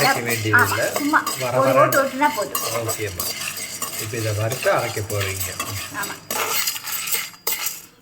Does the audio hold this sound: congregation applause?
no